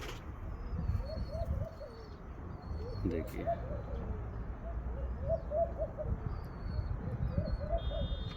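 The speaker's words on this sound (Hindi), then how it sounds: "ये हमारा कोर कमांडर कबूतर है। ये नर कबूतर है" Cooing from a male pigeon with red eyes, several soft, repeated low coos spaced through the stretch under a steady outdoor hiss and faint chirps, with someone speaking briefly nearby.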